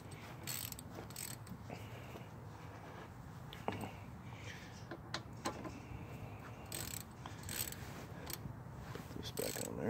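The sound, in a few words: ratchet tightening brake caliper screws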